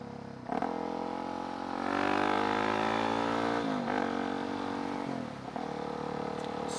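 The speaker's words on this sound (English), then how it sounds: "Look, there's a truck." A truck passing on a country road, an engine sound rising and falling as it goes by at moderate distance, fairly faint and alone.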